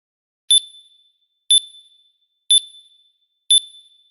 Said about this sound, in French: La sonnerie. Bizarre.